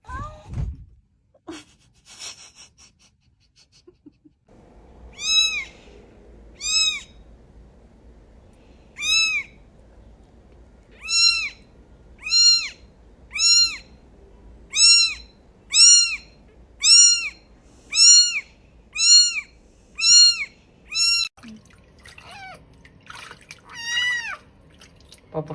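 A kitten gives a long run of about a dozen small, high meows, evenly spaced and fairly close, with a few softer cries at the start and end over a quiet background.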